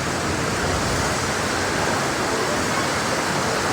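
Rainwater streams through holes in a cracked tin roof at a railway station, making a dense, continuous, even rush of falling water that fills the scene at steady loudness with no voices.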